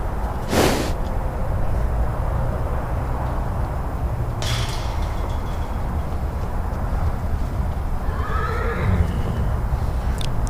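A horse whinnies loudly near the start, followed by another neigh a few seconds later and a softer one near the end, over steady outdoor rumble.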